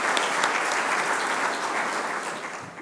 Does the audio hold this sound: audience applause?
yes